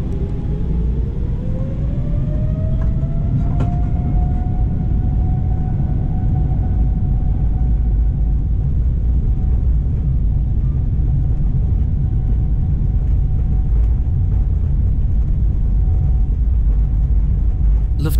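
Lufthansa Boeing 747-8 taxiing out at Shanghai, heard from inside as a loud, steady low engine rumble with a rising whine that settles into a sustained tone, continuous throughout with no talk.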